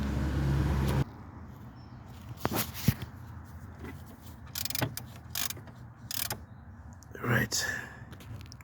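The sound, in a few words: ratchet with 19mm deep socket on fuel temperature sensor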